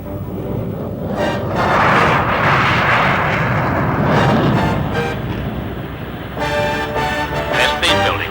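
Concorde jet engines roaring through a takeoff roll on runway 28 left, a loud, sustained broadband rumble that swells to a peak and holds steady, with a whining tonal layer emerging near the end.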